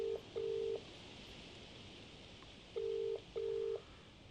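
Telephone keypad tones from the video game Contradiction as a number is dialed: four steady beeps in two pairs, with a pause between the pairs, over a faint hiss and no voices.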